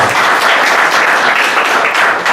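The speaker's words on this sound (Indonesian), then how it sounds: "Kasih tepuk tangannya bagi Allah" A church congregation applauds during a Sunday worship service, loud, close, continuous clapping in a brief burst with a slightly pulsing rhythm.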